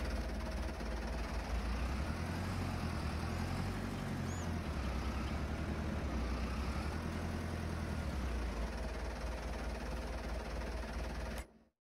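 A tractor engine in a farming video game drones at a steady low idle-like rumble, continuous and fairly close, with no voices, cutting off abruptly at the very end.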